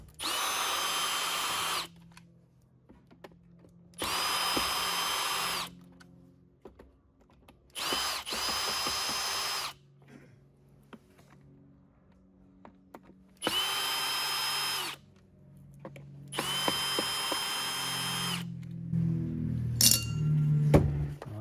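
A power drill backs Phillips screws out of a Bissell Compact 2112 vacuum, running in five loud, steady bursts of about two seconds each, separated by quiet gaps with faint clinks and handling noise, then closing on a clatter of small parts.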